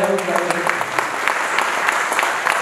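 Audience applause rings out at a book launch where Chief Minister Devendra Fadnavis felicitates Padmashri Achyut Palav, a brief burst of dense, steady clapping from a crowd with no talk over it.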